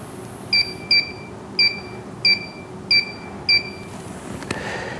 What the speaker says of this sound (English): We will now search for hidden wiring by moving the detector along the surface of the wall.